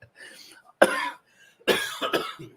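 A man coughs several times close to the microphone during a live show, harsh bursts separated by short pauses, with some throat clearing between them.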